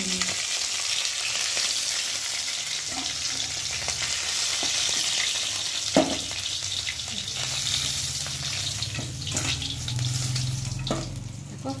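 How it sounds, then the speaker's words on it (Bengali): Pieces of Bhola fish frying in oil in a kadai, giving a steady close sizzle throughout with occasional clicks and knocks of a utensil, no talking. "চার পিস ভালোভাবে ভেজে তুলে নিয়েছি আর আছে তিন পিস আছে তিন পিসও সেরকম ওরকম করে ভেজে নেবো"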